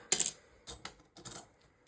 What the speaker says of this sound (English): And we only need 6-sided dice today.